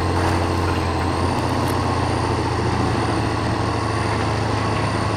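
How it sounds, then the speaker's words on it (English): A heavy truck engine in the off-road video game Spintires rumbles continuously at a steady idle, loud and close, with no talking over it. "The sound of the engine is awesome."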